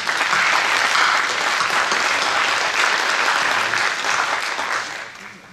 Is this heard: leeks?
no